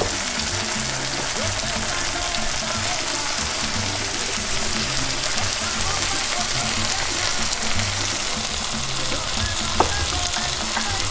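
Tomato sauce and chicken tinga fry in a pan, giving a steady, close, broadband sizzle that runs the full length, with a brief clink near the end.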